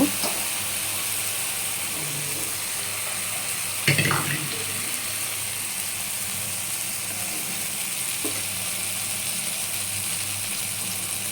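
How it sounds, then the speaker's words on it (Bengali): Soybean curry with turmeric sautéing in hot oil, a steady broadband sizzle throughout with a sharper scrape of stirring near the start and a fainter one later; no talking. "এখন একটু কষিয়ে দিব"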